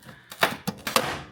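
Plastic Land Rover Discovery rear lamp lens cracking as it is pried apart, a few sharp snapping cracks close up over about a second, with no talking.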